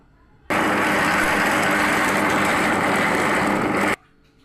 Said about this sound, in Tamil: இது இப்போ நம்ம மிக்சியில் போட்டு அடித்து எடுத்துக்கலாம்